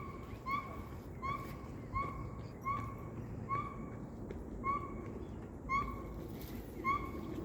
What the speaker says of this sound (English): I really don't know what kind of bird that is.